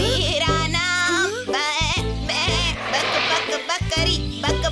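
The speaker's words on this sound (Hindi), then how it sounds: "यहाँ तो सिर्फ बकरी है। ये आवाज किसने की?" A cartoon goat bleats in wavering cries over a steady rhythmic music beat, loud and up front.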